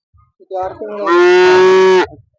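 A calf at the Honnali cattle market lets out a single loud, close moo that rises into a long, sustained bellow lasting about a second and a half.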